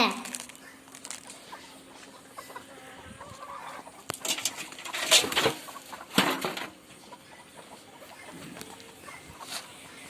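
Chickens pecking at coconut halves set out in the evening, with soft scattered clucks and pecking taps plus a few louder bursts of activity close by.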